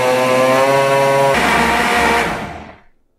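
Blender whirring through a thick high-calorie smoothie, a loud continuous motor drone that shifts pitch midway, then is switched off and winds down to silence.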